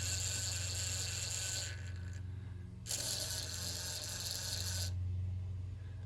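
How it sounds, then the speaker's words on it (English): An OO gauge model railway point motor recentering itself gives two bursts of bright mechanical whirring and clicking, each lasting about two seconds with a short gap between them, over a steady low electrical hum. "And now the point motor has centered itself."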